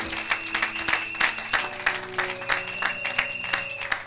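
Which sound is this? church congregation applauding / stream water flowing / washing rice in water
church congregation applauding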